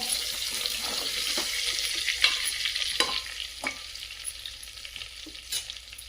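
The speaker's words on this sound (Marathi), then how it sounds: "पुन्हा एकदा हलवून घेऊया" Stuffed eggplants fry in a pressure cooker while a spoon stirs them, a hissing sizzle broken by sharp metallic scrapes and knocks that come at irregular intervals close by, with no voices.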